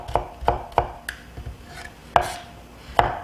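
A knife cuts zucchini into 0.5 cm slices on a cutting board while preparing Chinese-style yuni jajangmyeon. Five or six crisp, close chops land at an uneven, unhurried pace with short pauses between them.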